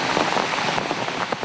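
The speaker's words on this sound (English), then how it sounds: "It's raining, thank God." Rain pouring in the Amazon jungle, a dense and steady hiss of drops hitting surfaces all around, loud and continuous with no voices.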